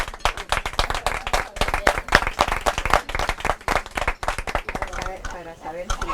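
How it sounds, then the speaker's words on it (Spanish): Sharp, uneven hand claps from a small group applaud the host at a communal minga gathering, sounding close and punchy, with a voice entering toward the end. "Un aplauso para el anfitrión"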